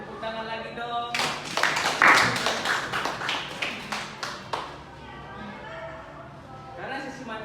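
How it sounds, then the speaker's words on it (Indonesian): A small seminar audience gives scattered applause, a few distinct hand claps in an irregular burst that fades out, with a speaking voice before and after. "Beri tepuk tangan lagi dong."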